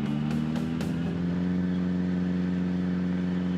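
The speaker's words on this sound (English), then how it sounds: "You can hear the engine complaining." A car engine in the video game Project Zomboid drones steadily with a low, strained hum while driving across a field, a few quick revving pulses at the start before settling into a constant labored tone.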